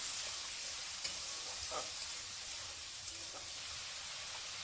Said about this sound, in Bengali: এগুলা এখন নাড়াবো, ভালো করে নাড়াচাড়া করে নিব।